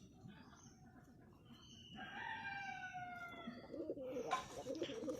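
Pigeon cooing comes through faintly among other bird calls, over a steady low background rumble, with the calls growing fuller and louder toward the end.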